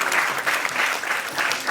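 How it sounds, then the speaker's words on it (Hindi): A crowd at a children's arts programme bursts into dense, steady applause, loud and continuous through the brief moment. "तो एक बार हम तालियां बजाएं"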